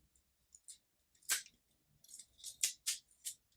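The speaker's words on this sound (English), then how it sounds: "I'm gonna remove these lines horizontally and then cut this in half." Scissors cutting a sticker sheet in half, several short crisp snips in an irregular cluster, close and clear against near silence.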